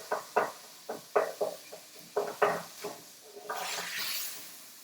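Minced pork is stirred and broken up in a pan, with a run of irregular scraping and knocking strokes in quick succession, followed by a rising sizzle toward the end.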